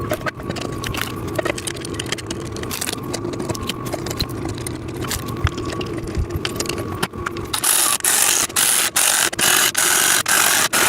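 Bolts, washers and nuts being screwed into a sissy squat machine during home assembly: continuous ratcheting clicks and metallic turning, with sharp repeated ratchet strokes growing louder and more regular near the end, close by.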